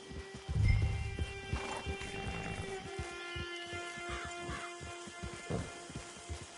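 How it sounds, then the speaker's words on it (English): Horse in the video game Red Dead Redemption 2 near a camp: faint hoof clops and snorting with steady game ambience and a low hum, a soft, brief rumble near the start. "It's your horse."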